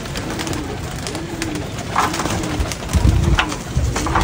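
A pigeon, handled at close range after being caught, gives a few soft low coos over a background of rustling and light handling noise, with no talking.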